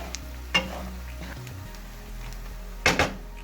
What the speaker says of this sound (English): Now you gotta stir quite often to make sure nothing gets stuck at the bottom